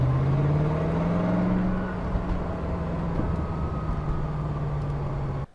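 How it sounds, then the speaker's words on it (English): A C4 Corvette engine idling close by, a steady low hum that settles after a slight rev at the start and holds evenly until it cuts off at the end. "You get to listen to the sweet sound of this engine purr."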